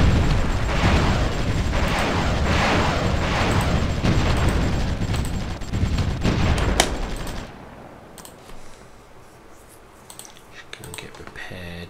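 Rapid bursts of explosions and gunfire crackle from an air battle in the strategy game Supreme Ruler Ultimate, dense and continuous before falling away to quieter scattered pops.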